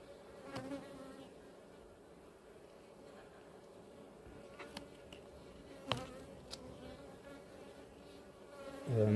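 Honey bees at an apiary hive give a continuous low buzz close by, with a few sharp clicks and knocks over it and a louder rise at the end.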